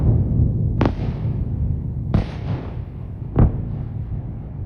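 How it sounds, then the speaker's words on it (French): Three sharp explosion bursts from attacks on Kyiv at night, spaced about a second apart, each a sudden crack followed by a decaying rumble over steady low background noise. "Ce sont les explosions qu'on a entendues ce soir."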